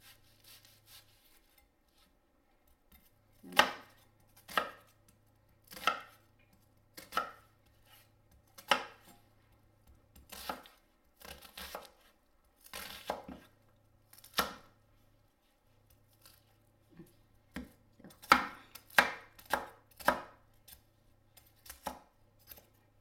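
Onion chopped on a cutting board by an Italian grandmother making pasta e fagioli: bursts of quick knife taps come in separate runs with short pauses between them, close and crisp against a quiet background with no talking.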